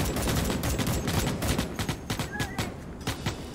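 Rapid gunfire in the sci-fi shooter Starship Troopers: Extermination crackles in dense overlapping bursts, loud at first and then thinning into scattered shots.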